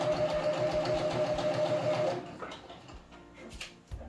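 A close sewing machine hums at a steady pace while stitching the curved back neckline seam of a basic V-neck t-shirt. It stops after about two seconds, leaving soft handling clicks and rustles.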